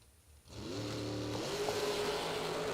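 A drag race car engine roars up suddenly from quiet and holds a loud, high-revving whine at maximum RPM, with faint tonal shifts as it stays near full throttle.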